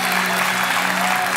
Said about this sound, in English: clap hands louder